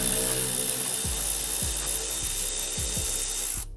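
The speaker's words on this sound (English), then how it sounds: "get your tool in there and unscrew it" A tool works at car bumper grill screws with a series of short ratcheting clicks and thumps over a steady hiss of background noise, fairly close and without talk.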